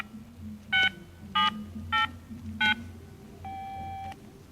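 Four short dual-tone keypad beeps evenly spaced as a phone number is dialed on a mobile phone, followed by a longer steady tone, over a low background hum.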